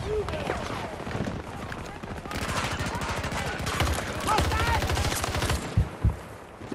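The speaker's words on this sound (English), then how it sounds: "I just mag dumped that guy." A full magazine emptied from an automatic rifle in Battlefield 2042 Breakaway Conquest: a long, fast, steady burst of close gunfire, with a voice talking over it and two sharp impacts near the end.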